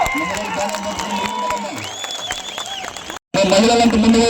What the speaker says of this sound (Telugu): గట్టిగా చప్పట్లు కొట్టి మీ హర్షధ్వానాలతో